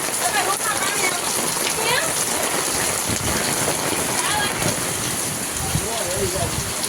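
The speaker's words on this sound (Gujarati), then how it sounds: "જોરદાર વરસાદ" Steady, heavy rain pours down with a constant dense hiss, and voices and shouts mix in faintly beneath it.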